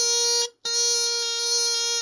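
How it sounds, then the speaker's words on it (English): A bagpipe practice chanter sounding a sustained, buzzy reed note with the thumb lifted, briefly cutting out for a moment before resuming steadily, with no talking. "if your thumb's off, it's going to sound like this."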